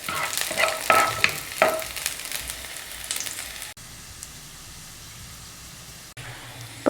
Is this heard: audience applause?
no